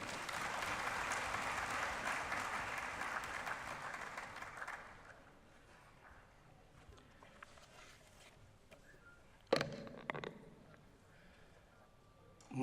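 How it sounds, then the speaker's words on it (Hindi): Applause from the audience at a national conclave, a dense burst of clapping that runs for about five seconds then dies away to a quiet room, followed by a few scattered knocks and handling sounds. "जोरदार तालियां।"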